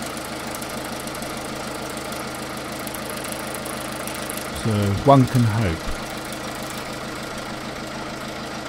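A damaged MINI R56 diesel engine idles steadily, roughly and unevenly throughout, with a brief spoken phrase over it partway through.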